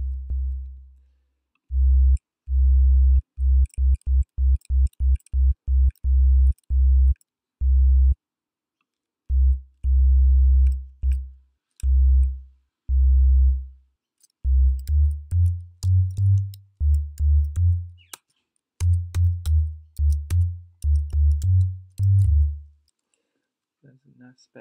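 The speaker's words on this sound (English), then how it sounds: "There's a nice bass sound again." A synth bass patch on Ableton Operator plays a long run of short, deep notes in uneven rhythms, some bursts rapid, others held, with the pitch stepping higher in the later phrases and clean silences between them.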